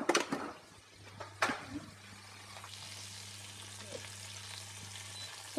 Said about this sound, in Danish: Og nu begynder fiskene at stege.